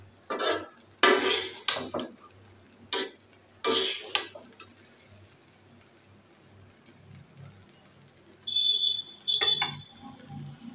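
Metal lid clattering onto a pot of nearly finished pilaf on a home stove, a few sharp clanks and knocks in quick bursts, then a quiet pause and a brief ringing beep near the end.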